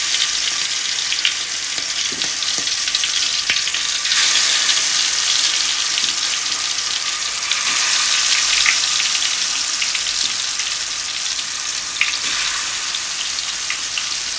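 Tiger prawns fry in hot oil, filling the pan with a loud, steady, close sizzle and crackle that runs unbroken for the whole stretch, with small bursts and pops and no voices.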